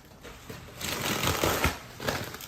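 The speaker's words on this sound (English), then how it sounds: "can we just cut it out of the plastic?" Plastic wrapping around a ZINUS 12-inch hybrid foam cooling mattress is cut and pulled open, giving a close, steady crinkling and rustling that swells after the first moment and keeps going to the end.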